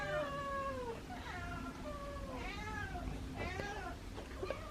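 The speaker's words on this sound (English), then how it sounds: "I've been hearing a lot of meowing in here" Several cats meowing indoors at night in a room of trapped feral cats, a string of drawn-out, wavering meows one after another, fairly quiet and close.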